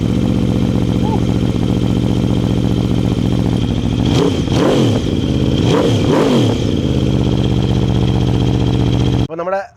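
An Aprilia RSV4 Factory motorcycle fires up and runs loud and close, a dense steady engine tone broken by two sharp rev blips in the middle before cutting off abruptly at the end.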